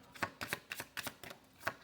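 A deck of tarot cards is shuffled close by in quick, crisp riffling bursts, about seven soft clattering pulses, quiet and without talk.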